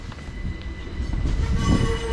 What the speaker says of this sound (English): Another train right there.